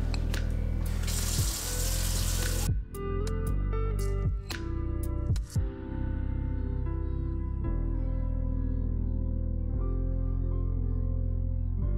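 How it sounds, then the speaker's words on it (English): Tap water runs into a kitchen sink while fridge parts are washed with dish soap: a hissing stream for a couple of seconds, then only soft backing music. "gonna wash it out with some dish soap and then go ahead and dry it with newspaper so that it dries faster"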